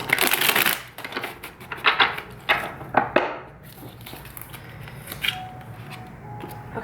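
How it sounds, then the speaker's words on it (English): A Twin Flame oracle deck is shuffled by hand in quick papery riffles and bursts of card shuffling, followed by softer slides and taps as a single card is drawn, close and fairly quiet. "Let's pull up a Twin Flame card actually for Divine Feminine in headspace"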